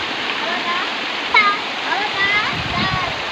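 A stream of clean flowing water near a village rushes and splashes steadily in a continuous close wash, with voices talking over it.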